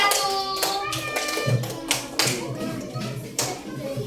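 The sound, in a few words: children clapping hands for a group in class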